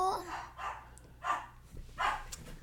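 A pet dog barks in short, fairly close yips at a home, four separate bursts spaced about half a second apart.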